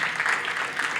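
Applause from a crowd at a football-related gathering, a brief dense patter of clapping hands throughout.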